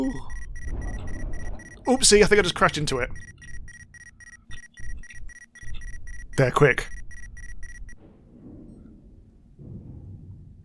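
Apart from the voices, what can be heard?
spaceship proximity alarm in the video game Ostranauts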